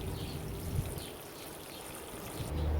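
Water poured from bottles onto newly planted courgettes in a garden bed, a steady soft trickle and splash running throughout, fairly quiet and close.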